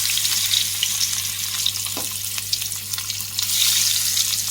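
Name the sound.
fish pieces frying in hot oil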